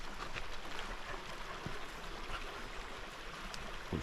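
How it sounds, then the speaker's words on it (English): The River Irwell flowing near a former paper mill, a steady, gentle rushing and trickling of water with occasional small splashes, moderately quiet and continuous, no one talking. "This is the River Irwell,"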